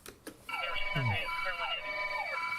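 A police car siren wails loudly and close, its pitch sweeping up and down in repeated cycles for over two seconds after a brief burst of static at the start.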